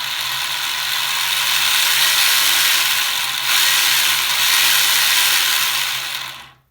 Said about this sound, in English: I've just done a quick test of the gearboxes to see how it sounds